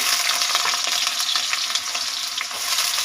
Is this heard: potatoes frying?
yes